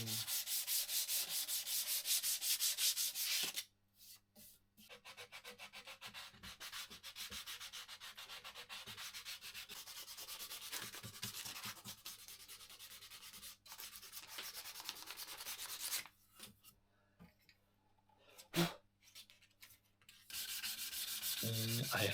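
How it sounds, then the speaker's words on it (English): Sanding a wooden gunstock for an ATA Arms Neo 12 semi-auto shotgun: steady, close abrasive rubbing strokes running continuously with a few brief pauses, no voices. "And now sanding, polishing, sanding."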